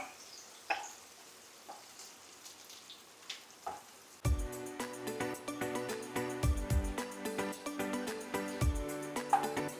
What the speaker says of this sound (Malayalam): കറിവേപ്പിലയും പച്ചമുളകും അതിലേക്ക് ഇട്ട് കൊടുക്കാം അത് നമുക്കൊന്ന് ഇളക്കി മൂപ്പിച്ചെടുക്കാം